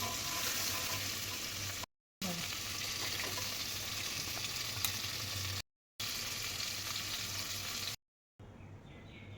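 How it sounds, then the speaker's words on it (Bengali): Pieces of vetki fish frying in a pan, a continuous close hiss and crackle of hot oil with short gaps, fairly quiet and unbroken by speech. "মাছটা তুলে নিই এইদিকে মাছটাও ভাজা হয়ে গেছে"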